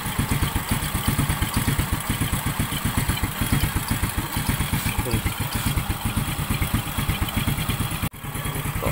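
A Honda XRM110 motorcycle engine idles steadily during carburetor tuning, a close, even thumping pulse with light mechanical clatter that holds throughout and dips briefly near the end.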